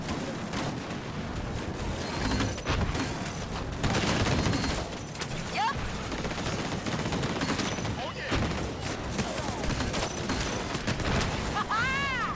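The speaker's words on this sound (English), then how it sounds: "You basically launch sticky grenades, and then you press Q to explode them" Continuous gunfire and blasts in the shooter game Disintegration as sticky grenades are launched and detonated, a dense, loud barrage with a few bright whooshing effects and no pauses.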